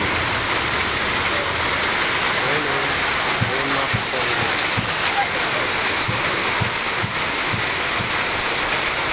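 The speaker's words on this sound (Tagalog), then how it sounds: "Sobrang lakas ng ulan." Very heavy rain pouring down during flooding at a residential compound, a loud continuous rushing wash of water with someone talking over it.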